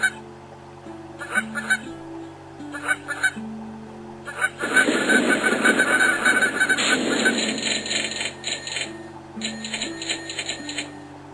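Geese honk in the video game Endless Migration, clusters of short cartoonish honks over a looping electronic game tune, then a busier stretch of overlapping honks before the music returns.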